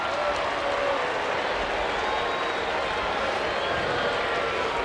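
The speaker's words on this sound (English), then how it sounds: "Crowd is similar to last night, maybe a few more." A ballpark crowd at a Braves–Giants game in San Francisco applauds and murmurs steadily, a broad, even wash of clapping and crowd noise at moderate distance.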